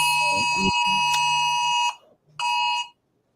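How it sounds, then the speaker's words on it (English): A loud electronic alarm set to go off at a scheduled time rings steadily, cuts out briefly and then gives a second shorter burst; speech sits under the first part. "It's the alarm that goes off at 1:20."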